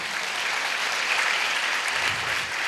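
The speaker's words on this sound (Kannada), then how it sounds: "ಎಲ್ಲರೂ ಚಪ್ಪಾಳೆ ತಟ್ಟೋಣವಾ?" A church congregation at a revival meeting in Bidar claps together in a soft, even patter. The applause sounds distant and is sustained for a few seconds with no voices over it.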